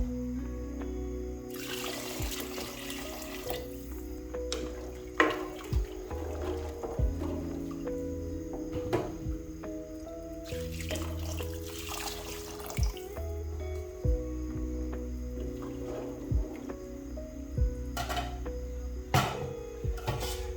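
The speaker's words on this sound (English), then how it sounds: "Then it's at this point I'll go in with my water." Water runs from a tap into a pot of lentils being cooked into a thick stew, a steady close splashing stream that swells and fades in bursts over a low kitchen background.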